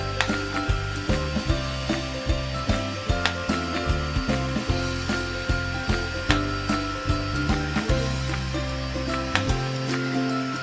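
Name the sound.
home laser hair removal handset zapping along leg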